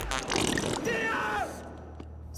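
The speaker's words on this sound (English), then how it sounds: "they said you couldn't keep all the fart sound effects in your final sound mix" A fart sound effect gives a short, buzzy, rumbling blurt that fades into a low, steady hum.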